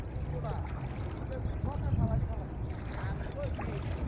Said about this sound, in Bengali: সেই গাড়ি, সেই নৌকা চালে ভাই